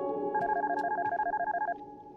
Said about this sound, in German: Klingelt hier das Telefon oder ist es mein Wecker?